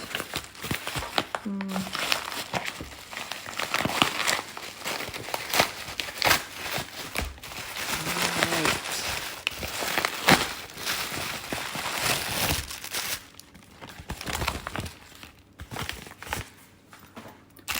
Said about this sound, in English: Let's see if I can get this open without scissors.